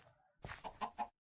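Chicken stuck in pipes in a GregTech Minecraft server gives a short run of four quick clucks, close and clear, after a faint low hum.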